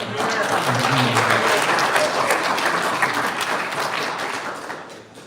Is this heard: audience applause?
yes